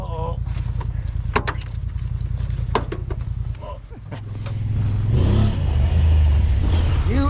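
A Honda Talon 1000x UTV engine idles loudly with steady low harmonic rumble, then revs and accelerates, its pitch rising and sweeping near the end, with brief clicks and people talking over it.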